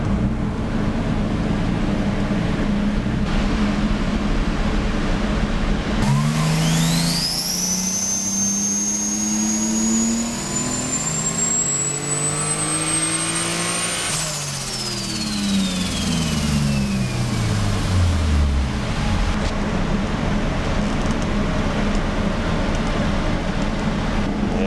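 A turbocharged V12 in a Toyota Cressida runs hard on a dyno, revving up with a rising turbo whine to around 7,000 rpm, then backing off and dropping to a loud steady idle, close and with no talking.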